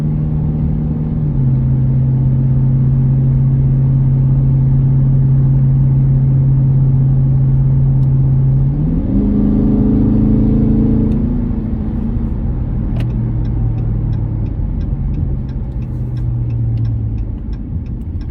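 A 2021 Dodge Charger Scat Pack fitted with a Drake strut tower brace drives a curvy road, its engine droning loud and steady, then revving up and climbing in pitch before easing back to a lower hum.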